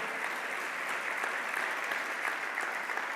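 A church congregation bursts into sustained applause, a dense, even patter of many hands clapping at moderate volume for about three seconds, with no speech over it.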